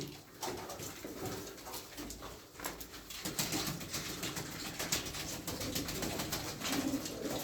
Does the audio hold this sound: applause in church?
no